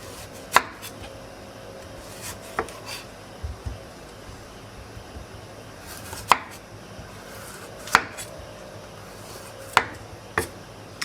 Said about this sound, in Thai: ให้เราหั่นหัวไชเท้า